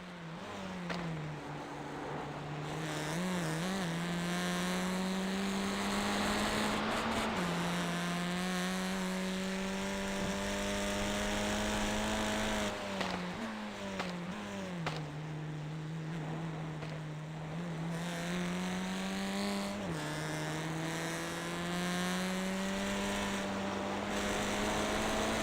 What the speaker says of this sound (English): you can witness the beautiful sounds of the Audi RS3.